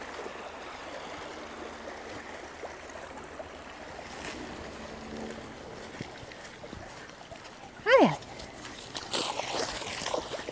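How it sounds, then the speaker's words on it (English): A mountain creek in Switzerland rushes steadily in the background on a hike with dogs, a soft continuous wash of flowing water, briefly interrupted by a voice and other nearby sounds late on. "Yeah, mountain creek."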